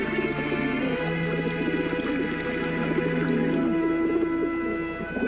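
Crowd of young racing pigeons cooing and murmuring in cages before a race, overlapping soft throaty coos close by, steady throughout with a sustained tone drifting underneath.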